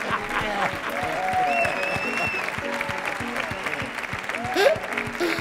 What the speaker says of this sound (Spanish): por favor, señoras, señores, recibamos con un fuerte aplauso a Mark Lenders.